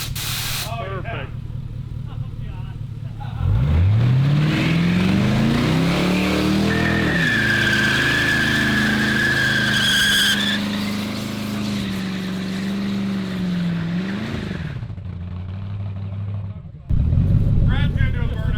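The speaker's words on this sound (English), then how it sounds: "Brad's gonna do a burnout" A drag-build car doing a nitrous burnout, the engine revving up and holding high while tires squeal loudly, with shouting voices around it.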